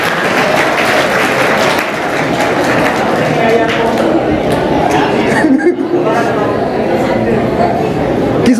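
Children clapping together at a school admission festival and prize distribution ceremony, dense steady applause filling the whole stretch with crowd chatter mixed in.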